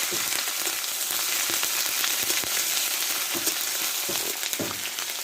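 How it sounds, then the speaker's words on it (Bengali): Onion paste frying in a pan gives a steady, dense sizzle with scattered crackles and pops, close and even throughout, with no voices. "এখানে এক চামচ মতো পেঁয়াজ বাটা দিয়ে দেবো ভালো করে ভেজে নেব"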